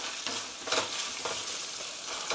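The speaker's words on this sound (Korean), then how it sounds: "면을 같이 볶아주세요" Champon noodles stir-frying in sauce in a hot pan, a bright sizzle that surges in a few quick bursts as they are tossed and stirred, close and fairly soft, no voices.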